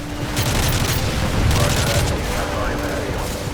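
Battle audio from Call of Duty: Modern Warfare 3, with rapid gunfire bursts and booming explosions rumbling continuously under a dense layer of combat noise.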